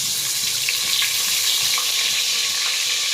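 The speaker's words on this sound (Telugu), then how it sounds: "నూనె బాగా కాగింది, దాంట్లో వెల్లుల్లి పేస్ట్ వేసాను" Garlic paste sizzling in well-heated oil for chicken curry, a dense, loud, continuous hiss with faint bubbling close up and no voices.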